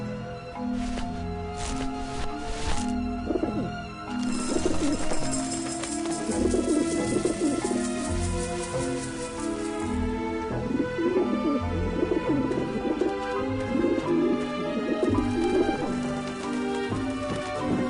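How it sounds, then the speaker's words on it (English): Pigeons coo repeatedly in Grim Fandango, soft rounded calls layered over a steady game music bed, with no talk. "Back off, birds!"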